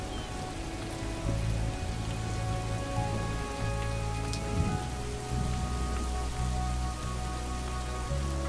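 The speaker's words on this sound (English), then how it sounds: "Five millimetres of rain falls every day for weeks on end." Rain falls steadily on the African savanna during the rainy season, a soft continuous patter with a faint low hum underneath, and no voices.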